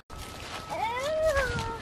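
A cat meows once with a rising then falling, slightly wavering cry over steady garden background noise outdoors.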